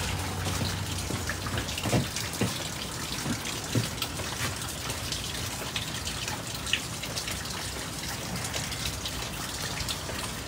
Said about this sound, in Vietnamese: Thôi mưa nhiêu đây cũng được rồi.